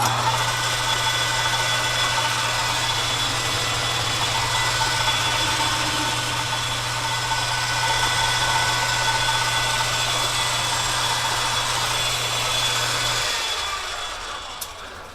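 A lathe cuts a chamfer on the rotor shaft of a Baldor 15HP three-phase electric motor, giving a steady machine hum with a strong low tone and a faint high whine, close and unbroken, before spinning down at the end.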